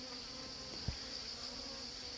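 Native Korean honeybees buzz at a hive entrance recently raided by giant hornets, a dense, continuous nearby drone of many insects with a brief soft thump partway through.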